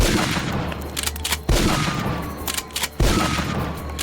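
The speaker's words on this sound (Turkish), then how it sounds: "E, önce tüfeğin şarjörünü boşaltalım." Rapid rifle fire in a video game as the magazine is emptied, sustained bursts of loud shots in three stretches separated by brief pauses, with no talking.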